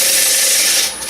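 A 3/8-inch swept-back bowl gouge makes a pull cut on wood spinning on a lathe, giving one loud, close, continuous rasping shave that eases off at the end.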